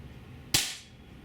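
A Beeman P1 .22 caliber air pistol fires one sharp, loud crack up close, with a brief decaying tail and quiet room before it.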